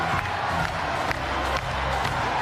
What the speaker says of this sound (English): as noisy as this crowd is now